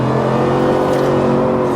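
A 2022 Ford F-150 fitted with a Borla Atak exhaust revs steadily, its loud, close engine drone holding a constant low rumble with no voices over it.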